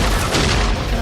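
Robots in the Transformers cartoon unleash a barrage attack, a dense rumbling wall of booming blasts that fill a single loud second with no clear gaps.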